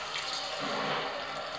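Water pours in a steady, loud gush from a jug in the Dying Light video game, a continuous splashing rush lasting the whole short stretch with no talk over it.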